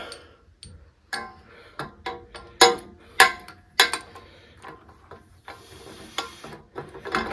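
Irregular metallic clicks and ratcheting knocks from a puller being worked on a vintage W. T. Grant box fan, close and sharp, in uneven bursts with short pauses.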